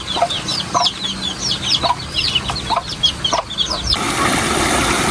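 Pet chickens being fed and watered cluck in short, repeated bursts close by, with small chicks' chirps mixed in and a steady outdoor hiss rising toward the end.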